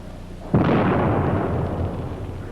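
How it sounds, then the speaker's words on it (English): An underground blast brings down a two to three metre slice of rock from the back of a stope in a Sudbury nickel mine. A sudden loud boom gives way to a long, heavy rumble that slowly fades. "a 2 or 3 meter slice of the back will be blasted down from above"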